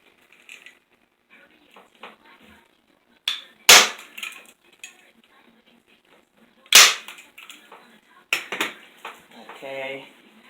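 A staple gun fastening fabric onto a kitchen chair seat, several sharp loud snapping shots spaced seconds apart with softer handling clatter between them.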